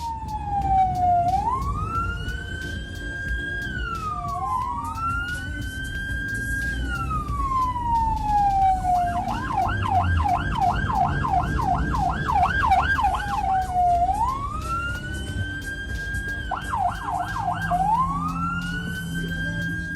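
An ambulance siren wails through St. Petersburg traffic, a loud, close sweeping tone that rises and falls, switching midway to a faster yelp pattern before returning to the slow wail, over a constant rumble of engines.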